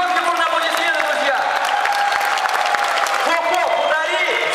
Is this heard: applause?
yes